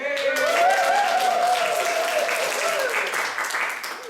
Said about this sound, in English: every time the ends of the rope are spun, the audience goes crazy with cheering and applause